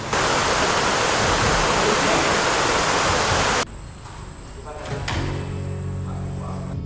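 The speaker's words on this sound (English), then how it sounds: "This is how the rain is pouring down." A loud, roaring downpour at an abandoned sugarcane factory in Suriname fills the first half, then cuts off abruptly to a much quieter background with low rumbling.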